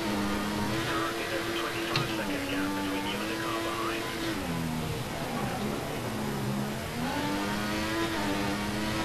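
A Formula 1 car engine in F1 2014 at the Malaysian Grand Prix, a steady high whine that climbs and drops through gear changes, continuous and mid-level with faint game ambience behind it.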